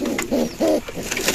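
Pigeons at a farm cooing, a few soft, low throaty coos in close succession, near and moderately loud.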